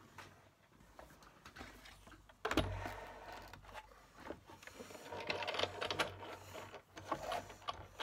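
Big Shot die-cutting machine cranking paper shapes through, a quiet run of clicking, rattling mechanical movement with one sharper clunk early on, close and alone without talk.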